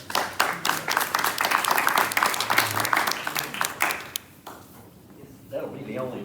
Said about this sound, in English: That'll be the only applause I get